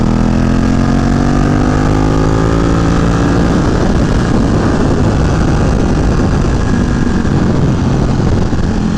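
A Ducati 1299 Panigale motorcycle engine rises steadily while riding on a warm road, a loud, continuous roar with wind rush and no talk.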